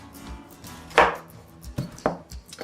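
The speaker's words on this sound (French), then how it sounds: "on découpe le potiron en petits morceaux" Pumpkin being chopped into small pieces for a chocolate pumpkin cake: a few sharp knife strikes against a cutting board, spaced irregularly and close up, with no talking.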